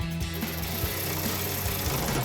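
Bolt being tightened with a 6mm Allen socket on a power tool while fitting a truck bed cap rail on a Toyota Tacoma: a steady whirring motor with repeated rhythmic rattling clicks.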